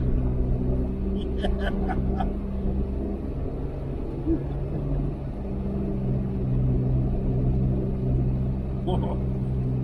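A four-wheel-drive vehicle fitted with a Warn hub and switched into two-wheel drive turns slow donuts, giving a steady low engine rumble that runs throughout while people talk and cheer over it.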